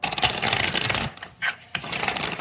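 Tarot cards riffled in quick shuffles, a dense crisp flutter broken by a short pause and another brief burst before the rapid shuffling resumes, close and alone.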